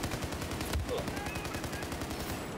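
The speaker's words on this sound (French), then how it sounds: "J'ai entendu tirer." Rapid automatic gunfire in Battlefield 4 multiplayer, a dense rattling burst sustained across the whole moment, loud and continuous with game ambience beneath.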